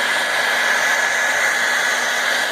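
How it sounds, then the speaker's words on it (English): A hair dryer blows steadily at close range, drying Plasti Dip on the emblems of a 2017 Jeep Compass in cold weather, a constant whooshing hum with a faint motor whine and no talk. "I'm going to go get a hair dryer. I'm going to dry it off."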